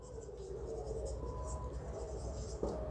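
Writing on a board during a classroom lesson produces a steady, soft scratching stroke over a low room hum, close and continuous, ending with a small tap.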